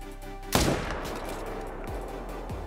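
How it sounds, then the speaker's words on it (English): A single sharp rifle shot cracks out during a bear hunt in theHunter: Call of the Wild, loud and close, with a long rumbling tail fading behind it. "I shot right over top of it"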